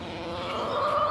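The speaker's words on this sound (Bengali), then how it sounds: "আর দেখুন সাদা মুরগিটা কীরকম করছে ডিম পাড়ার জন্য" A white hen clucking as she prepares to lay an egg, with a raised, sustained call growing louder toward the end, close and alone without talk.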